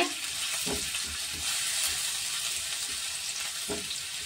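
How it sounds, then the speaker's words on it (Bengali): Chopped garlic sizzles in hot oil left from frying paneer for restaurant-style chili paneer, a steady close crackling hiss with a few soft stirring scrapes. "ওই তেলের মধ্যে আমি রসুন কুচিটা দিয়ে দিলাম"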